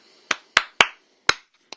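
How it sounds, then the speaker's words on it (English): Five sharp hand claps in an uneven rhythm, close and dry, the first three spaced evenly and then a pause before two more, the last one softer, with no talking. "having the student clap back a rhythm to you"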